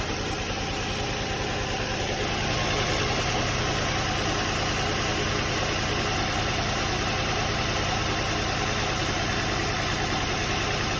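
A Nissan 350Z engine idles steadily and loudly up close, a dense continuous drone with vibration and no voices.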